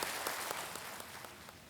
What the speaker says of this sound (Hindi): एक बार फिर तालियों के साथ हम अभिनंदन करते हैं